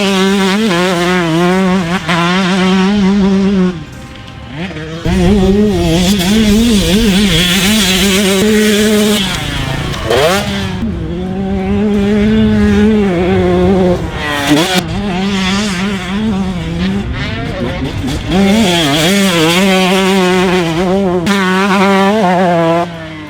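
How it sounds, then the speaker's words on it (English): 2021 GASGAS MC125 two-stroke motocross bike revving hard, close and loud: a continuous buzzing wail that climbs and falls repeatedly as the throttle is worked over a long stretch. "the 125 engine on the GASGAS rewards the rider who revs it"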